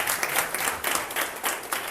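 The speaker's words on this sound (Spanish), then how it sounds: "Bueno, pues un aplauso a Néstor." An audience in a university economics class applauds, steady dense clapping throughout, fairly loud and close, with no talk over it.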